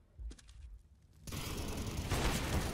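Gunfire in the video game Counter-Strike: Global Offensive during an IEM Dallas 2022 match, a few sharp shots followed by a dense burst of rapid fire.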